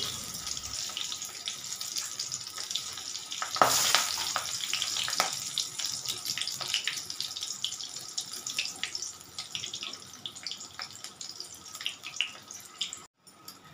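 Slit green chillies and nigella seeds sizzling in hot oil, a steady bright hiss that stays loud and close throughout, with small crackles and a brief surge early on, no talking.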